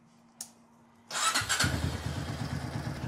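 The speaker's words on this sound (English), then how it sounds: "The bike should fire right up" A Honda CRF230F dirt bike engine cranks and fires after a brief click, catching quickly and settling into a close, steady, throbbing idle with no one talking.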